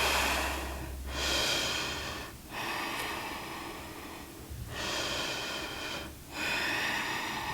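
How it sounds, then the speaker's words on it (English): Deep, full yoga breaths drawn in and out through the nose during a detox flow, with long airy inhales and exhales separated by brief pauses, close and steady with no talking. "Breathing in and out completely."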